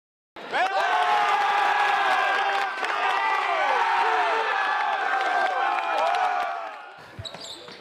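The Cedar Catholic Trojans student section at a high school basketball game cheers loudly and steadily for several seconds, with whoops and shouts over a dense crowd roar that cuts off near the end.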